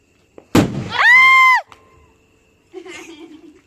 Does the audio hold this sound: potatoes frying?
no